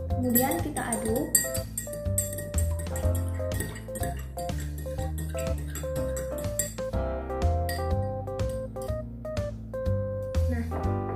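A spoon clinks rhythmically against a glass while stirring a solution in a lab experiment, steady bright taps continuing throughout over soft background music.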